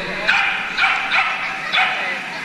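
Four puppies at a lively children's party give short, high yips and barks in quick bursts, close and fairly loud, with voices mixed in.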